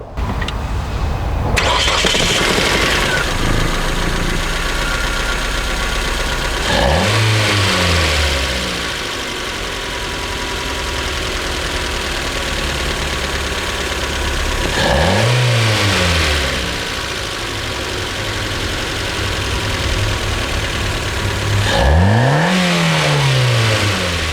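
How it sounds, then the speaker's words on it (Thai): A Ford Laser Tierra RS engine starts and revs up several times, rising and falling in pitch, with a steady idle rumble between the loud revs. "มาฟังเสียงเครื่องยนต์กัน"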